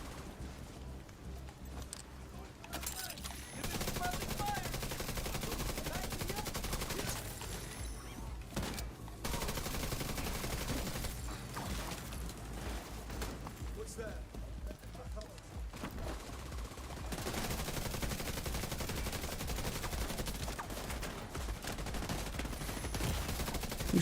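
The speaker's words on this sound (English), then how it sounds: "Who's shooting at me?" Sustained gunfire in The Division 2, a dense, nearly unbroken roar of automatic shots and impacts, loud and close, with brief dips between bursts over a long firefight.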